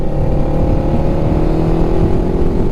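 A roughly 45-year-old Suzuki GS550 motorcycle engine revs up close and loud with a steady, throaty drone that holds through the whole moment, with no talking.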